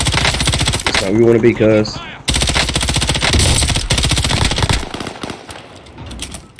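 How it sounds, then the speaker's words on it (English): Rapid automatic gunfire in Call of Duty Warzone rattles loudly and almost continuously, with bursts broken by brief pauses while players talk over it. "I think they're shooting from prison."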